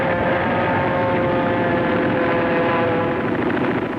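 Aircraft engines drone during an air raid on offshore U.S. ships at Iwo Jima, a steady, loud, dense roar holding without a break from start to finish.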